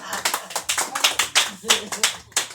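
A church congregation claps in a steady rhythm, the claps close and evenly spaced, while voices are heard over them.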